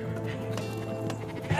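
Sheep on a farm, close by, bleating against a steady animal-pen background with hoof shuffling, ending in a louder call near the end.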